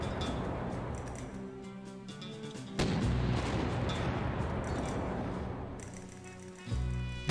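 Continuous dense rattle of rapid video game gunfire and booming blasts, loud and sustained, with a sharp heavy burst near the end.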